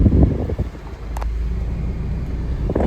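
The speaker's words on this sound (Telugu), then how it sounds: "బటన్ ప్రెస్ చేస్తే వెహికల్ అనేది స్టార్ట్ అయిపోతుందండి" A 2017 Maruti Suzuki Vitara Brezza ZDI+ diesel engine started by push button settles into a steady, close, low rumbling idle, with some wind buffeting over the microphone.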